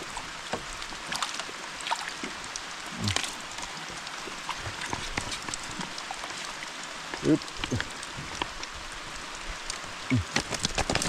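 Rain falls steadily outdoors near a stream during a fishing trip, a continuous hiss broken by irregular louder patters and drops, with no clear talking.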